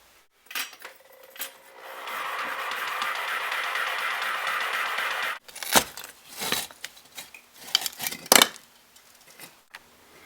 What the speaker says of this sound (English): now just get in here carefully with a recip saw and cut the bricks